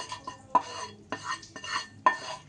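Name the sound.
spice mix being transferred into a mixer jar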